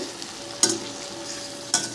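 Snake gourd frying in a pan, a soft continuous sizzle broken by two sharp scraping strokes of a spatula stirring the pieces, about a second apart.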